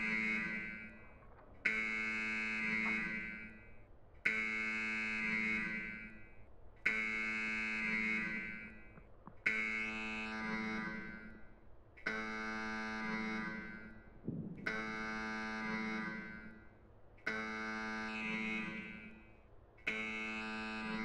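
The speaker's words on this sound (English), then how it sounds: "The alarm is so loud." A loud alarm in the video game Escape from Tarkov blares in a repeating buzzing tone, about eight long pulses separated by short gaps, with no voices over it.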